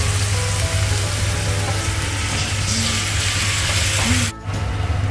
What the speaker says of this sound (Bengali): এটা তেলে আচ্ছা করে কষা হবে তেজপাতা আর শুকনো লঙ্কা দিয়ে।